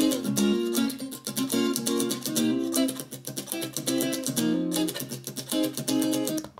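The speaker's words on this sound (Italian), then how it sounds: "Infatti, senza equalizzatore suona così." Acoustic guitar strummed and picked with a plectrum, heard unequalized with bright, crisp pick attack, playing a steady rhythmic pattern in a full, dense arrangement close to the listener.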